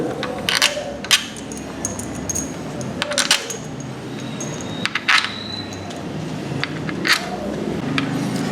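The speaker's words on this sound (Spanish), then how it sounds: "Ahora sí vamos a colocar los pernos M8." Sharp metallic clinks and jingles of M8 bolts being set onto a clutch assembly, scattered taps at irregular intervals, close and bright over a quiet background.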